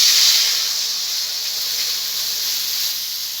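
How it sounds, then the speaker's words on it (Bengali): A little water poured into hot oil left from frying fish gives a sharp, loud hiss that starts strong and settles into a steady, slowly fading sizzle. "এখন এই মাছ ভাজা তেলের ভিতরে আমি অল্প একটু জল দিয়ে দেবো"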